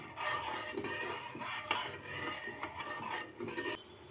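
A spoon scrapes and stirs sugar into thickened milk in a pot for a malai bread dessert, close-up rhythmic rasping and scraping strokes with occasional light metallic clinks, no voices.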